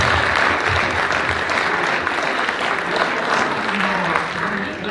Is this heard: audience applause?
yes